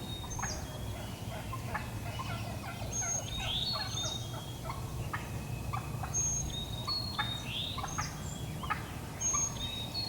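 Repeated turkey gobbles roll out in scattered, overlapping bursts over a constant low rumble of outdoor background noise.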